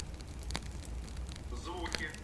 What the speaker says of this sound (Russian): Звуки. Треск поленьев.